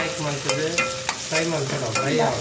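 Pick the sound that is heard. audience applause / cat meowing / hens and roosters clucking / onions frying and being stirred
onions frying and being stirred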